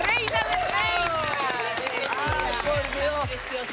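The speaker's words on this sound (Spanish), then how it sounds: "Un aplauso para ella." A television studio audience cheers and applauds loudly as former beauty queen Cecilia Bolocco arrives. The excited hosts shout over the dense, continuous clapping.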